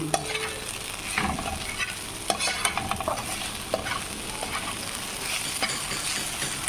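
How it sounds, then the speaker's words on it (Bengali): Fish frying in a pan in a home kitchen, a continuous low sizzle with scattered spatters and scraping clicks of stirring, fairly quiet and with no talking. "মাছ ভাজা দিছি আর চলে গেল।"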